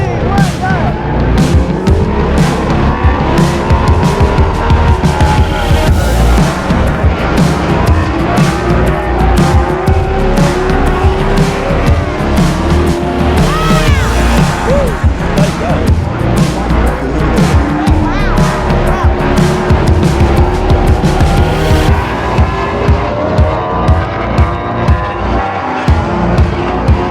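Small racing buggies run laps at a speedway that holds caravan demolition derbies, engines buzzing loudly and continuously with rising and falling revs, tyre squeal and crowd noise across the long stretch.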